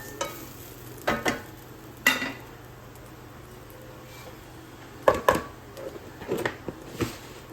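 Fennel seeds roasting in a pan for a Kerala roasted-coconut chickpea curry, with a faint sizzle beneath scattered clinks and scrapes of a spoon against the pan.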